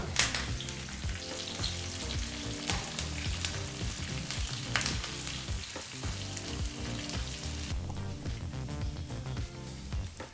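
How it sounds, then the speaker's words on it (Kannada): Spices for a tempering crackle and sizzle in hot oil over a low flame, with steady popping and occasional sharp spits, and stirring throughout. "ಲೋ ಫ್ಲೇಮ್ನಲ್ಲೇ 1 ನಿಮಿಷದವರೆಗೂ ಇದನ್ನು ಫ್ರೈ ಮಾಡ್ಕೋಬೇಕಾಗತ್ತೆ ಎಲ್ಲ ಪದಾರ್ಥನ"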